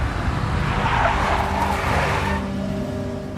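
A big black Mercedes car in the video game Max Payne, a steady engine roar with a brief tire skid swelling and fading over about three seconds, fairly loud and close.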